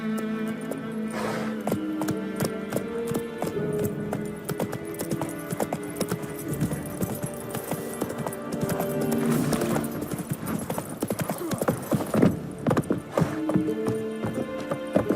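Roach the horse from The Witcher 3 gallops along, hooves clip-clopping in a quick steady rhythm, close and clear over background game music throughout.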